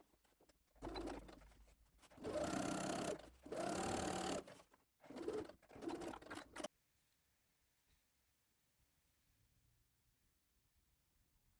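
A sewing machine stitches the pocket bags of a dress skirt, running in several loud bursts with short pauses. A quiet room tone follows, with faint bird cooing in the background.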